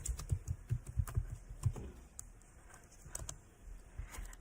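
Quiet, close typing on a computer keyboard, a quick run of soft key taps followed by a few scattered presses, with no talking.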